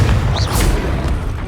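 A Confringo blasting spell explodes in Hogwarts Legacy, a short loud boom with a crackling burst that fades quickly, close, with no speech.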